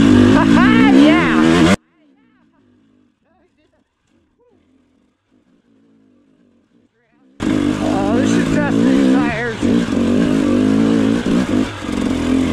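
An off-road motorcycle on Tusk Recon Hybrid tires crawls over wet rocks, its engine loud and revving in uneven bursts, cut by a long near-silent gap in the middle, with a rider's voice and exclamations over it.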